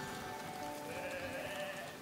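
Sheep bleating on a sheep farm in the medieval city-building game Foundation, steady wavering calls over a constant rain-like hiss, moderately loud with no talking.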